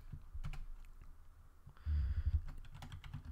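Computer keyboard typing while coding, a string of fast close key clicks with a brief louder burst of continuous noise midway, no voices present.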